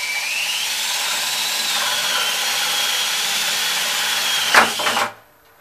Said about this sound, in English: And so here we go to drill this out.